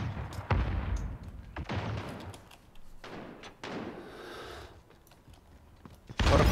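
Gunfire from a weapon in Modern Warfare, a run of sharp shots in separate bursts with gaps between, close and loud, ending in a louder volley.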